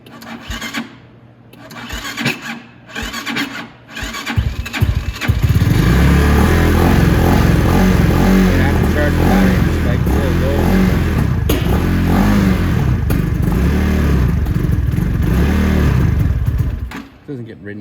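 A motorcycle engine cranks and catches after a few short attempts, then settles into a loud, steady idle as it warms up, running close by for over ten seconds before cutting off.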